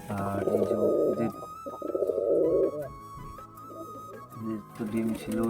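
Domestic pigeons in a home loft where a bonded pair is laying eggs coo in low, throaty rolling phrases, close and fairly loud, with quieter stretches between bursts.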